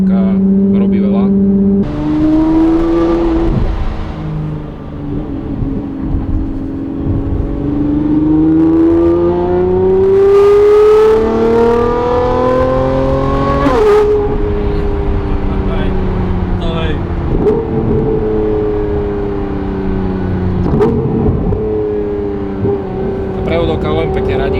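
A Lamborghini Revuelto fitted with a Gintani F1 exhaust accelerates, its engine note climbing steadily with quick gear shifts breaking the pitch, loud and close from the cabin, while someone talks over it.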